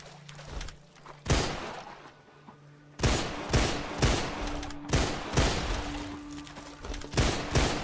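Bursts of gunfire in the video game Deadfall Adventures, loud and close, rattling in dense volleys with brief gaps between them and a low steady game tone underneath.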